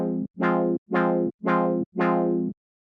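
Five identical synth chord stabs for minimal tech house, each with a soft attack opening into a bright filtered sweep, evenly spaced with short gaps, dry and close.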